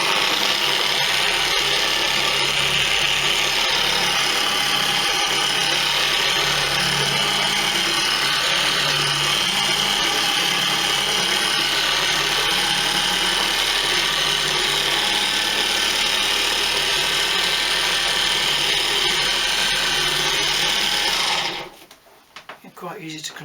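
A cheap Guild dual action car polisher runs at speed setting 3, a steady, loud mechanical whir with a fine vibrating buzz that continues evenly for a long stretch before switching off near the end.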